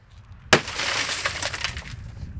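A tempered glass window is struck in its bottom corner and shatters with one sharp crack, followed by a long, dense cascade of crumbling, tinkling glass fragments close by.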